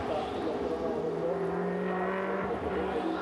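A Coppa Shell race car passes the commentary position at Monza on the final lap, its engine a steady droning whine that holds under continuous commentary.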